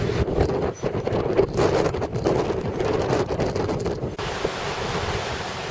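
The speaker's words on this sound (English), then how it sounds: "It's certainly blowing a hoolie out there today." Strong gusting wind buffets the microphone while surf crashes steadily onto the shore of a bay on Jersey in rough winter weather, a continuous loud roar without speech.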